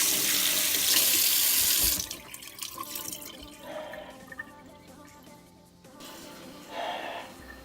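A kitchen tap runs loudly for about two seconds while a pepperoni is rinsed, then cuts to quieter splashing and handling, with a second burst of running water near the end.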